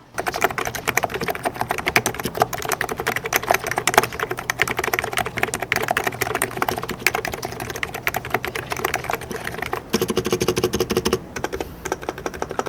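Rapid, steady typing on a retro-style electrocapacitive keyboard, many soft muted keystrokes clicking in quick succession, close up and continuous with a brief pause near the end.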